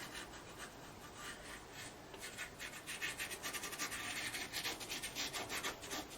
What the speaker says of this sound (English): I'm just scraping the brush down just to get a little bit of shadow